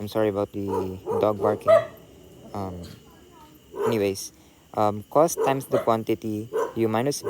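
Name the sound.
dog barking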